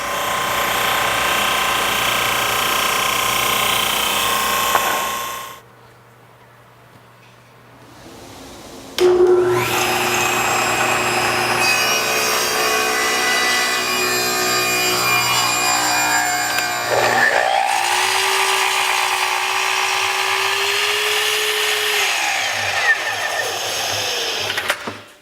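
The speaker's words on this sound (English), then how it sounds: "I'm going to use the drum sander to get this flat." A drum sander flattens a wide wooden board riding on a sled, giving a loud, steady motor whine with a grinding hiss. It drops away for a few seconds midway, then roars back up and runs on continuously.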